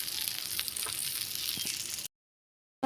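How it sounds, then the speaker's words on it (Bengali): Fish sizzling in oil in a pan, cooked Pakistani style, with a steady close hiss and crackle for about two seconds before abrupt silence, then a brief return of sound at the end. "এই দেখো আমি এখানে মাছ ফ্রাই করতেছি"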